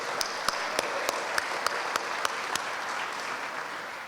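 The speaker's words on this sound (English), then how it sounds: "give him a round of applause" An audience applauds a police assistant chief introduced as keynote speaker at a veterans' hall of fame induction, with steady, dense clapping and a few sharper claps standing out in a regular rhythm.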